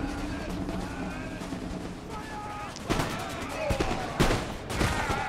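Musket fire crackles through an Empire: Total War battle, scattered shots and a few sharper volley bursts over constant battlefield rumble and distant din, with no talk over it.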